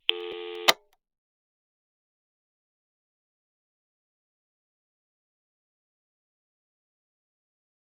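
Telephone busy signal in the video game Nine Noir Lives: a short burst of tone lasting under a second, then silence.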